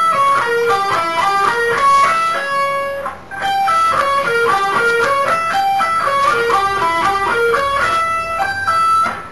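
An electric guitar plays quick, clean arpeggiated notes climbing and falling in a repeating pattern, with a brief pause near the middle.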